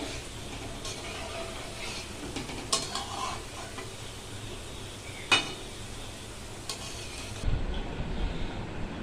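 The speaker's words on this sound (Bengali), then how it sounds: "তেল গরম হতেই বড়াগুলো আস্তে আস্তে দিয়েছি এর মধ্যে এটা অনেকটা ভাজা হয়ে এসছে" Palm fruit fritters (taler bora) frying in hot oil, a steady close sizzle with occasional scraping stirs and clinks, ending in a louder burst of bubbling.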